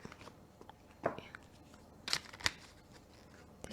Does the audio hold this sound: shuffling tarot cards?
yes